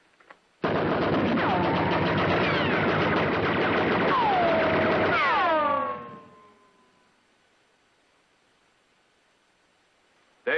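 Rapid gunfire in a western TV episode, a loud sustained burst of shots with whining ricochets that cuts off abruptly and fades into near silence.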